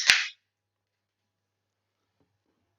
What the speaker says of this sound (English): That was the sound of an NHS hero from Felon Fall Brewery being opened there